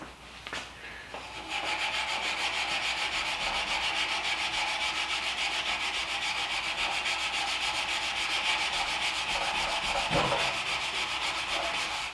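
Steady, close rasping of hand sanding on a stock-removal knife blade runs continuously for about ten seconds after a brief quieter start, with a few knocks along the way.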